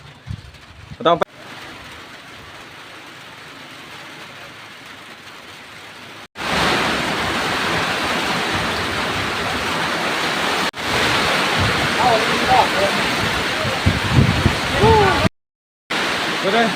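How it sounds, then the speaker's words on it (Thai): Steady rain pours down as a broadband wash of loud hiss, starting soft and then swelling heavier midway, with a couple of brief breaks. "ตอนนี้ก็ฝนตกนะ"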